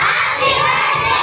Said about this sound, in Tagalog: Sigaw.